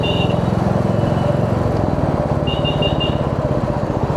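A motorcycle rides through a traffic jam on the road from Manali to Patiala, its engine chugging steadily up close while short electronic horn beeps sound twice from nearby vehicles.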